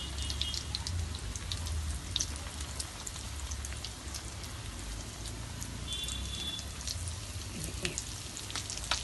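Pieces of meat parcha frying in hot oil after being flipped to the other side, a steady close bubbling sizzle packed with fine crackles and pops that continues without a break.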